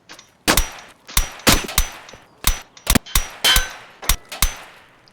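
Single gunshots fired one at a time in Escape from Tarkov on the Interchange map, about a dozen sharp cracks in an uneven rhythm, close and loud with brief metallic ringing tails.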